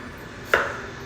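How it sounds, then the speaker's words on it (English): A knife chops through a potato on a cutting board while breakfast tortilla fixings are prepared, giving a single crisp, close thunk midway through an otherwise quiet kitchen. "So just chopping this potato as wide as I chop the onion."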